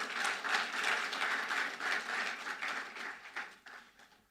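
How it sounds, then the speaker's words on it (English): Faint, distant applause from a lecture audience of lawyers, a rippling patter of clapping that thins out and fades toward the end. "I thought for lawyers we should clap for ourselves."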